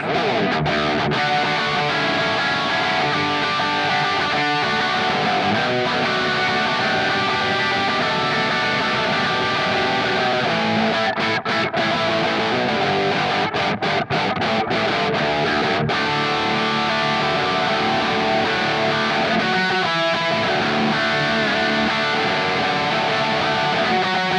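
Distorted electric guitar played through a Kemper OD1 Plus overdrive profile, chugging punk-style riffs in a dense, continuous wall of crunch with brief stops between phrases, close and loud with no talking.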